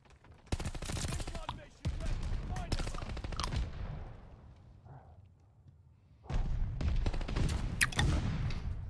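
Gunfire in the shooter game Call of Duty: Vanguard, with loud rapid bursts of automatic fire that stop for a quieter stretch and then resume with heavy shots, close and intense.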